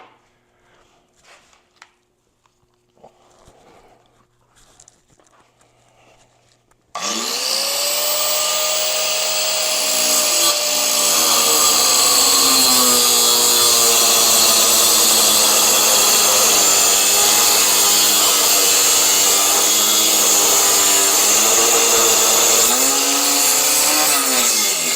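A handheld power grinder, used to trim a part on a 1957 sand rail, starts abruptly after quiet shop sounds and a few soft clanks, then runs loud and steady with a high whine that dips slightly as it bites the metal.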